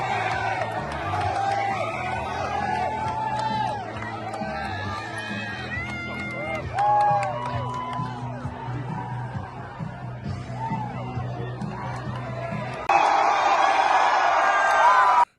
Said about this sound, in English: Gosh, that is a huge crowd